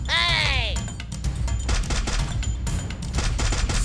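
Rapid bursts of gunfire in the mobile shooter Free Fire crackle loudly and repeatedly, close and sharp, after a brief whooshing sweep at the start, with no talk over the shots.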